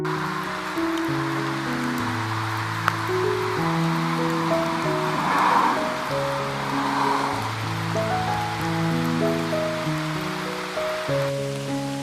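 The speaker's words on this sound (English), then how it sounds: "It's now just 1 o'clock and it's already, let's say, raining quite a lot." Heavy rain falls during a hike near Elgg and Turbenthal in the Zurich countryside, a continuous hiss of rain on the surroundings under a steady tonal background of shifting notes, with no talking.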